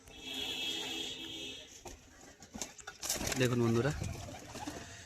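A pigeon gives a short, low, throaty coo close by among high-flying fancy pigeons, while someone talks over the scene before and around it.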